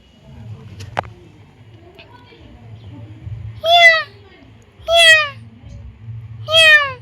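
A cat being called over to eat gives three clear, close meows spaced about a second apart against a low steady hum, after a brief sharp knock near the start.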